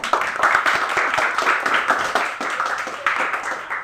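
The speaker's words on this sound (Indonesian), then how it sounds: "Oke, silakan kasih aplaus untuk Ilham." Classroom applause for a student: many hands clapping together in a dense, steady burst that stays loud and close throughout, with no talking over it.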